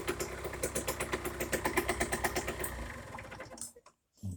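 A motorcycle engine with a PHBG carburetor runs during mixture adjustment, a close, rapid, even putter of firing pulses that fades and cuts out near the end.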